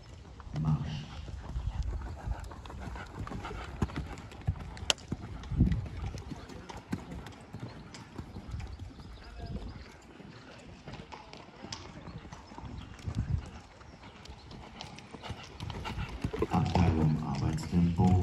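Rhythmic hoofbeats of a horse cantering on footing in a dressage arena, steady three-beat thuds close by, with a person talking intermittently over them.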